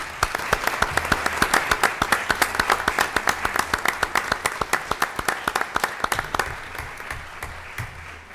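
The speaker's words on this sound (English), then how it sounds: "So let's please give them a round of applause." A city council chamber audience gives steady applause that runs for several seconds with many overlapping claps, then thins toward the end, heard from a moderate distance without speech.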